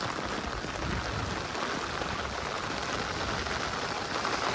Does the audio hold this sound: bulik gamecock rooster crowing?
no